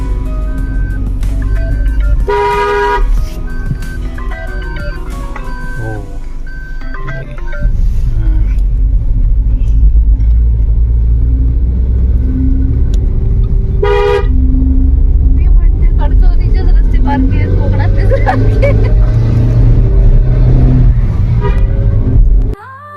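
A four-by-four vehicle drives through hill country around Shimla, with several short honks and a horn-like melodic toot rising over a steady, loud engine rumble, while people talk over it.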